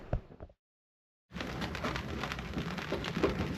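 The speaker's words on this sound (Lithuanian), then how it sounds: "Šiandien lėtas rytas, nes vis lynoja, tai daugiau, tai mažiau." Steady drizzle falls at a small dock in the Stockholm archipelago where boats are moored. After a short silent gap, the rain sets in as a dense, even patter that continues without a break.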